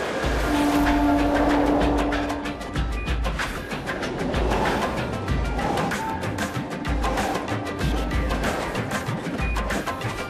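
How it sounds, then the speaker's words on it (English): A crowded Mumbai commuter train on the world's busiest railway passes close by, its long horn blast over rumbling wheels and clattering carriages as the wagons roll past without pause. "OK, train's coming."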